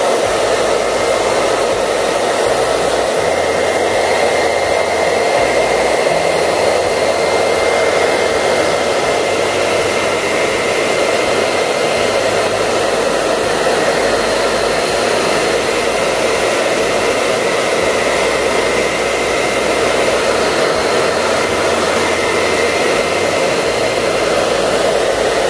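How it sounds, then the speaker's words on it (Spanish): A hair dryer blows on wet paint to crack it, a loud, unbroken whooshing hum that runs steadily from start to finish with no voices. "con el secador voy a empezar despacito a agrietar"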